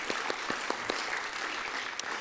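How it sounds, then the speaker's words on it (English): Audience at a poetry reading at the Spire Center in Plymouth clapping, a short burst of scattered, moderately distant applause from a modest crowd. "Give yourselves a round of applause,"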